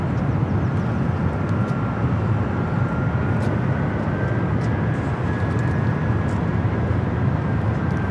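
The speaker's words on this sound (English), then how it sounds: "Got that Delta 767, you can hear it starting its taxi." Delta Boeing 767 jet starting its taxi at LAX, a steady, moderately loud engine hum with a faint rising whine, continuous throughout and fairly distant.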